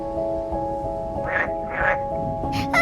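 A small frog croaks in a few short, raspy bursts over a quiet background with a faint steady tone, ending in a sharper final call.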